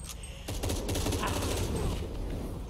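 Rapid bursts of gunfire in the video game Shadow of the Tomb Raider form a dense, continuous volley of shots at moderate level for a few seconds, with no speech over them.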